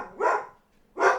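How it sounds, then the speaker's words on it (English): Dog barking in the background, two separate sharp barks a short pause apart, moderately loud with no talk. "That's Boogie Cousins barking in the background"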